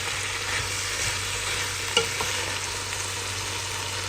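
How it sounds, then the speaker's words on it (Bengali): A mixture frying in a pan with turmeric, chili and salt gives a steady close sizzle, with a light stirring scrape and a couple of soft clicks near the middle, no talking. "সামান্য লবণ দিয়ে এবার এটাকে ভালো মতো ভেজে নেব।"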